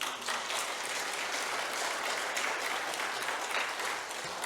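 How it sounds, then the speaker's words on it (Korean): Church congregation applauding during a Sunday service at a Korean church, a steady dense wash of many hands clapping together, sustained and even throughout without any voices over it. "박수 한번 칩시다"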